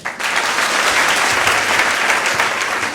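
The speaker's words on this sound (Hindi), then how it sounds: "सब लोग जोरदार तालियां बजाएं।" An audience at a youth dialogue gathering in Gonda claps loudly and steadily, a dense wash of applause that starts abruptly and holds at full strength for the whole stretch.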